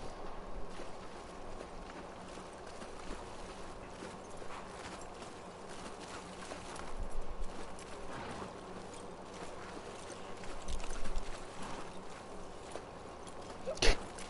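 Horse hooves clip-clopping at a steady walking pace in The Last of Us Part 2, quiet under soft ambient game sound with a few louder knocks toward the end.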